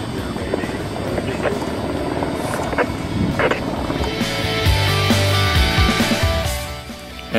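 A helicopter's rotor thumps loudly overhead, a continuous heavy whirr that swells toward the end with engine whine mixed in.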